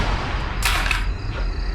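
A single sharp gunshot rings out in a tense drama scene, a short broadband crack rising over low background hum, with no speech during the shot.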